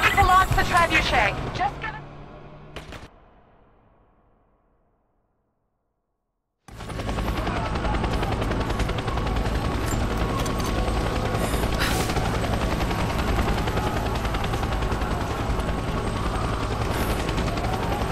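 A helicopter in the video game Rise of the Tomb Raider makes a dense, loud rotor drone. It fades into a few seconds of silence, then returns as a steady, continuous mechanical roar.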